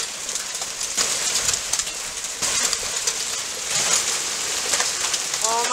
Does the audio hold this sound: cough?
no